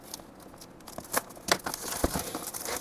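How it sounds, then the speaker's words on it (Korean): Crinkly plastic film being peeled off a Xiaomi Dr. Ozawa ultrasonic eyeglass cleaner, soft rustling and crackling close by with a few sharper tearing bursts, quiet and irregular, no talking. "일단 이 비닐부터 벗겨볼까요?"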